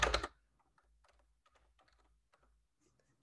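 Brief burst of typing on a computer keyboard while entering a number into an Excel worksheet, a quick cluster of clicks at the start followed by quiet, soft talking.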